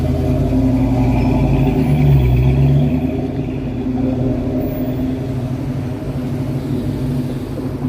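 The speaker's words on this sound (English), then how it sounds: "There's a muscle car." A muscle car passes on a downtown Toronto city street near Bay and Dundas, its engine a loud, deep, continuous rumble that swells slightly and then holds steady.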